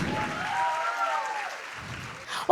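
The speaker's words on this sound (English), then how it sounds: "A big round of applause for our graduates" An audience at a school annual day in JP Nagar applauds its graduates with a steady, moderately loud wash of clapping that carries a faint tonal ring and briefly swells at the end.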